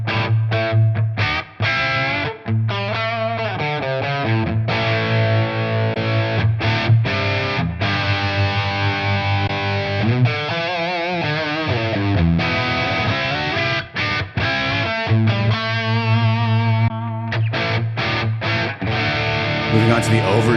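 Electric guitar on the crunch channel of a ToneX pedal, played up close as driven chords and riffs with short pauses between phrases.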